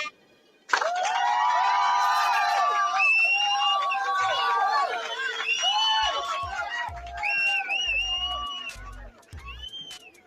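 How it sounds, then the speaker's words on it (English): A crowd at a talk on Medinet Habu temple symmetry raises a sudden loud burst of cheering and shouting that holds for several seconds and then tapers into scattered calls and chatter. "Give some hand claps."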